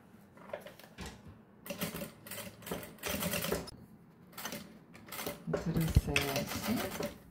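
Sewing machine stitching a zipper lining for a small pouch, running in several short rattling bursts with brief stops between them, close by, while a person talks over it.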